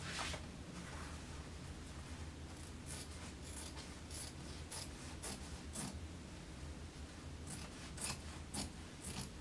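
Scissors cut fabric into continuous bias strips, giving a steady run of crisp snips and rasping blade slides with short pauses, close and alone.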